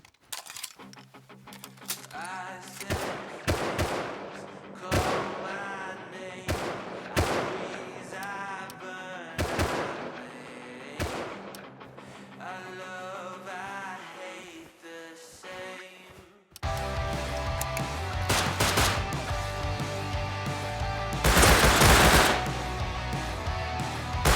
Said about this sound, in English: You know they're getting desperate when the nail gun comes out.